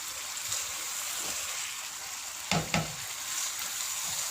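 Chicken achari gosht sizzles steadily in a pan as the last of its liquid cooks off, a close, even frying hiss with a couple of brief stirring scrapes midway.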